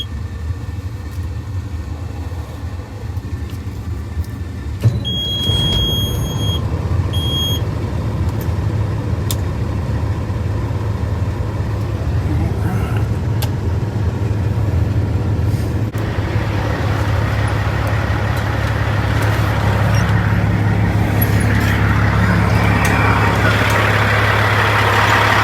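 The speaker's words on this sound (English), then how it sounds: "Let's go ahead and start the truck up. Let it warm up while I go inside and get my paperwork." Semi truck engine turning over and settling into a steady, close diesel idle with a low rumble that grows rougher and louder later, with a brief ignition chirp near the start.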